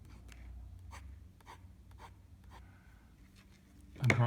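Soft scratchy strokes of a pen drawing on a book with sticky pages, raised off a table, come in a slow, regular rhythm, close and quiet, ending in a louder rustling burst.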